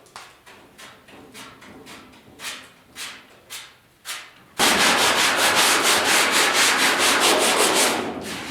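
Sanding on the cab bodywork of a 1972 Ford F100 4X4 pickup with 40 grit sandpaper: a few separate rasping strokes, then a loud, steady run of fast, rhythmic scratching strokes close by, with no talk.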